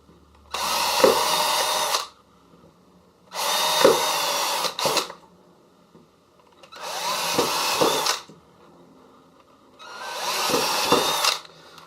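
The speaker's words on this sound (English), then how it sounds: "The pilot hole's drilled out." A power drill drills a pilot hole in four long bursts of about two seconds each, loud and close, with short quiet pauses between them.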